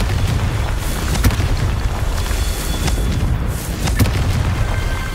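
Confringo blasting spell in the Hogwarts Legacy video game: a dense, loud rumbling explosion bed with a couple of sharp bursts around the middle and toward the end, no talking.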